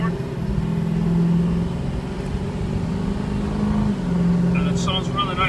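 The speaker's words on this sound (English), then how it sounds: "And it sounds really nice with the exhaust system," A 2006 Ford F250 Lariat crew cab 4x4 with a Power Stroke 6.0 turbo diesel, aftermarket exhaust and cold air intake idles in a steady low drone, with a faint whistle toward the end. Someone talks over it.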